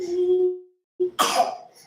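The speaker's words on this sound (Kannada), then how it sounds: "ಕೆಮ್ಮು ಕೆಮ್ಮು" A single harsh cough bursts out after a brief hum and a pause, close and fairly loud, trailing off quickly.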